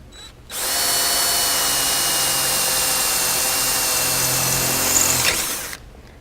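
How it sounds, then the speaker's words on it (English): A power drill bores steadily through a UHMW plastic skid plate on a Kawasaki Teryx, a loud, continuous whine for about five seconds that rises slightly as the bit breaks through, then stops abruptly. "and start drilling."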